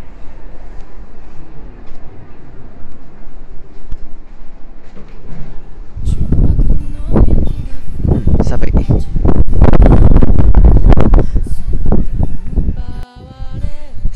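Wind gusting across an open-air, roofless 16th-floor rooftop deck at Abeno Harukas on a cold winter night, first as a low steady rush, then loud buffeting bursts against the microphone, with a voice speaking over it.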